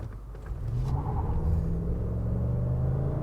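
A 2008 Cadillac DTS accelerates hard from a standstill on an open road, with a little tire spin. Its engine gives a steady, close, low drone with road rumble that holds for the whole stretch, and no one speaks.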